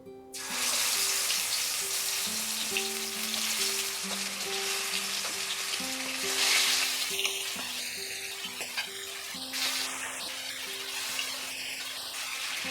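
Chicken pieces frying in hot oil over a medium-high flame, a continuous bright sizzle with occasional stirring and clinks of a utensil against the pan, close and steady throughout.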